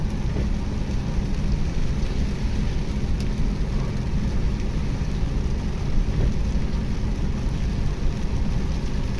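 Heavy rain pours down under a dark, cloudy sky, a steady, dense hiss that stays loud and unbroken from start to finish, with no voices.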